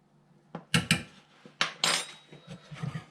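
A spoon stirs turmeric golden paste with ground black pepper in a container, a series of sharp clinks and scrapes, close and irregular, with no talk.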